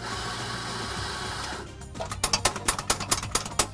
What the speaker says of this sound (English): I turn the grinder back on and then I purge everything that I've got in the chamber.